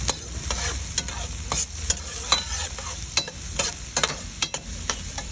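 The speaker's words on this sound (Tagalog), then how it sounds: "Haluin natin." Pechay sautéing in a frying pan is stirred with a utensil, giving repeated sharp scrapes and clacks over a soft, constant sizzle.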